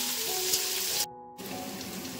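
Onions fry in a wok with a steady, close hiss of sizzling oil that cuts out briefly partway through and then resumes just as strongly.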